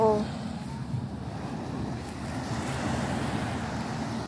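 Sea waves wash onto East Coast beach in Singapore as a continuous, moderate surf hiss mixed with wind buffeting the microphone, with no voices.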